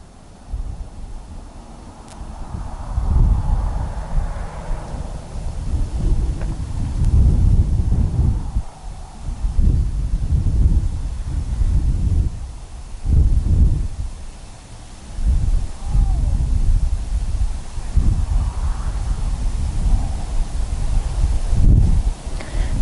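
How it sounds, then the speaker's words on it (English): Wind blowing outdoors on a mountain, gusty low rumbling buffets against the microphone with faint rustling, rising and falling in repeated waves. "the wind brushing against my palms"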